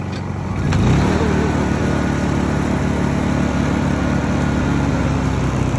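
A portable generator engine runs with eco throttle off, producing a loud, steady, close droning hum with a faint rise in pitch near the start, then holding constant.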